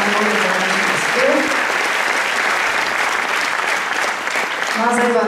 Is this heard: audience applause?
yes